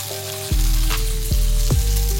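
Bean sprouts and peanuts sizzle loudly in a hot pan, a steady fry broken by a few sharp clunks of stirring against the pan.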